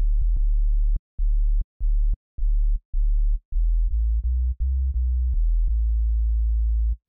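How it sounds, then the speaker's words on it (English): A pure sine-wave sub bass synth in Bitwig Studio plays a run of short, evenly spaced deep notes, then shifts into longer sustained tones with small clicks at the note edges. The bass is clean and alone. "you have a pretty, really beefy sub bass using just a sine wave"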